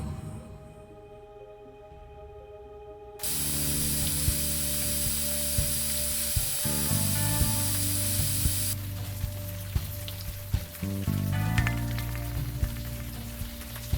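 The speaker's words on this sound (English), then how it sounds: "Spray painted my name on the building." In the video game Unavowed, a spray can hisses as paint is sprayed onto a building, a steady loud rush that starts suddenly and continues with small pauses and rattles.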